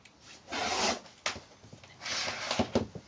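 A rotary cutter slicing through quilting fabric on a cutting board, heard as two or three close scraping, rasping passes with brief handling knocks between them.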